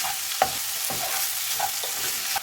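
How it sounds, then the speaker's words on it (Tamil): Vegetarian Hakka noodles with masala stirred in a pan, a steady frying sizzle with a few quick scraping strokes of a spoon or spatula, close up and without talk. "ஸோ அதனால் கொஞ்சம் கிண்டி விடுறோம்."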